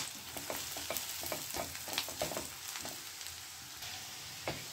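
Onions and curry leaves fry in a pan with a faint, continuous crackle, scattered sharp pops and light stirring scrapes.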